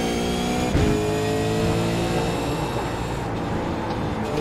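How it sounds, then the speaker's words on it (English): A race car engine in a sim racing game at Phillip Island holds a loud, steady high-pitched drone, with a brief shift in tone early on before it settles back into a constant whine. "I'll rely on the noise of the car."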